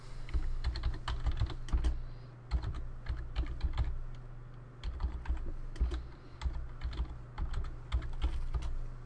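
Fast, irregular keystrokes clatter on a computer keyboard, with brief pauses between bursts, close and clear over a low steady hum.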